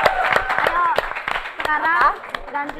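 An audience at a talk show claps for guests Oki and Neti, with scattered sharp claps breaking through the ongoing talk.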